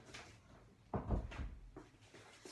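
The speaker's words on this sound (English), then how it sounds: "Let me just actually close the door." A door is closed indoors with a soft thud and a few faint knocks and rattles, quiet and close by with no talk.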